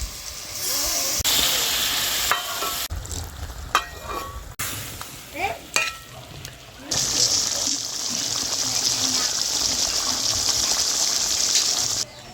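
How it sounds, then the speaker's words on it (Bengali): Coconut milk poured into a pan of prawns cooking in a poppy seed masala, with hot sizzling, liquid gushing and stirring heard up close, then a steady bright hiss of simmering that carries on at an even level. "এইবারে দিয়ে দেবো এই যে নারকেলের দুধ"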